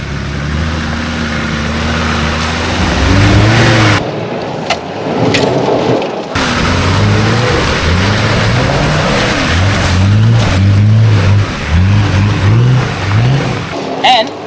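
A 4x4 Patrol climbs a hill section of a wet off-road track, its engine loud and close with revs rising and falling as it pushes uphill. Rushing wind or rain noise sits underneath, with brief dropouts in the sound.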